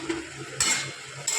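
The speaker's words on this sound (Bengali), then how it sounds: "এরপর যে ভেজে রাখা সবজিটা ছিল সেটা আমি একটু ঢেলে দেবো।" Fried vegetables tipped into a pan of cooked-down spiced paneer masala, a brief clatter and scrape followed by a rushing sizzle that stops and then starts again, close by.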